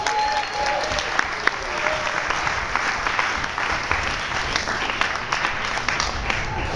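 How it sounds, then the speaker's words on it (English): Sustained, even audience applause for the Nerd Nite organizers in a lecture setting, thick continuous clapping with a few sharper claps popping out near the listener, holding steady throughout. "A round of applause for the Nerd Nite organizers,"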